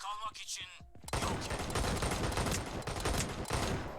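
A brief voice opens the clip, then dense, rapid gunfire from a Sabotaj online shooter match runs continuously to the end.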